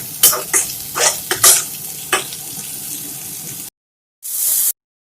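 Ridge gourd peel sizzles steadily in a pan while a spatula scrapes and stirs in several quick strokes, then the sizzle cuts off, followed by a short hiss.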